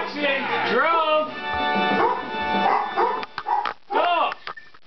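A dog barks and whimpers in the room during a New Super Mario Bros. Wii play session, its repeated close yaps blending with loud game music and sound effects.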